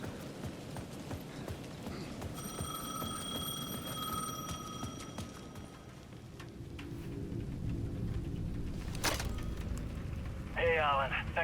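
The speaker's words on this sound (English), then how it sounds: "The payphone at the edge of the plaza was ringing again." A payphone at the edge of a plaza in the video game Alan Wake 2 rings in a steady repeating electronic tone for a few seconds midway, under low ambient rumble and background noise.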